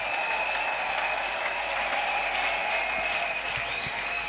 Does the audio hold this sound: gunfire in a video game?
no